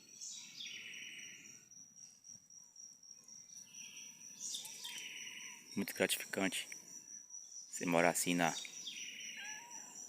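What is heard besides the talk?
wren (garrincha) singing in the countryside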